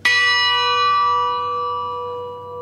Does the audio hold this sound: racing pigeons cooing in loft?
no